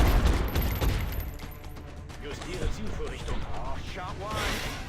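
Gunfire in the XCOM tactical game on Impossible difficulty, a series of booming shots with crackling impacts, loudest at the start and trailing into rumbling explosions, no talk.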